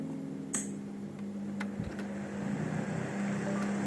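An electric fan on a smart voice-controlled switch turns on with a faint click, then its motor hum and airy whir slowly build and settle into a steady drone in a quiet room.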